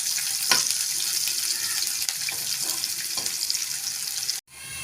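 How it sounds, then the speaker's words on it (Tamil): Onions frying with curry leaves toward golden for lemon rice, a dense hissing sizzle held steady throughout with a few light stirring knocks, close by, cutting off abruptly near the end. "வெங்காயம் நல்லா பொன்னிறமாகட்டும்"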